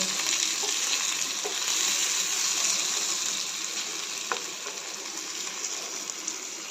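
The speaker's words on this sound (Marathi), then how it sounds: "कारल्याच्या फोडी एक दोन मिनटं परतून घेते त्या तेलामध्ये" Pieces of bitter gourd sauté in hot oil with a continuous bright sizzle and a few soft stirring clicks, loud and close, easing slightly toward the end.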